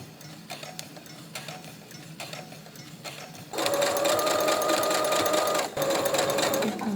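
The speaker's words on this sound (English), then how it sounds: "I have to sew over those." A sewing machine stitches over a seam while clothing is altered. It begins with soft intermittent ticking, then breaks into a loud, steady mechanical whir, with a brief hitch before running on.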